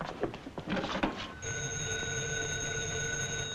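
A telephone rings in a 1943 screwball comedy film, a steady sustained bell tone starting partway through after a stretch of clattering room noise, moderately loud and continuous with no talk over it.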